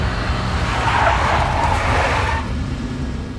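Big black Mercedes skidding in the Max Payne video game, a loud continuous tire screech over a low engine rumble that fades out near the end.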